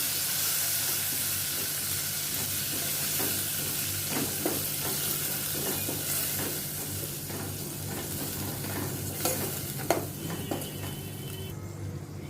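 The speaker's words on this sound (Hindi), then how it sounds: "इनको भी अच्छी तरह से मैं मिक्स करती हूँ।" Boiled green peas are stirred into a shahi Kashmiri pulao in a pan, with a continuous sizzle under repeated scraping and clinking of a spoon against the metal, close and steady throughout.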